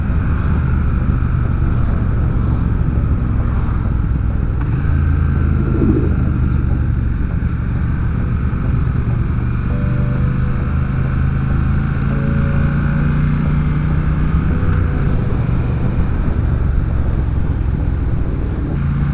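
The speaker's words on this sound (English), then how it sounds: "With Ben taking the lead, we set off on my first trip down the Dragon's Tail." A Triumph Speed Twin motorcycle rides the Tail of the Dragon road, its engine giving a steady loud rumble with slight shifts in pitch under constant wind noise throughout.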